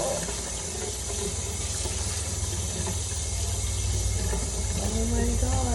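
Tap water runs steadily and fairly close while a cyanotype print is rinsed beneath it, a continuous splashing rush that lasts the whole time, with faint voices in the background.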